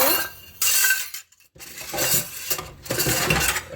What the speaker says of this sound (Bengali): প্রচুর বাসন এখানে ভর্তি বাসন এখন এগুলো সব নিয়ে যাব বাথরুমে সব মাজতে হবে